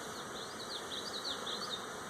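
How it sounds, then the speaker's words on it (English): Dense, continuous buzzing of many honeybees close by at an open hive, a steady insect drone with wavering higher tones. "There's a lot of bees in this hive."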